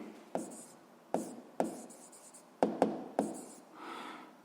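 Pen or chalk writing out a physics problem in short separate strokes, each a crisp scratch with quiet pauses between, close and clear with no talk.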